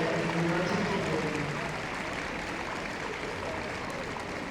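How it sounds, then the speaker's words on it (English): Applause for dog breeders leaving the show ring at a major dog show, a continuous even wash of clapping from a large crowd, loud at first and easing slightly, with no clear speech over it. "a big round of applause for all the others leaving the ring now"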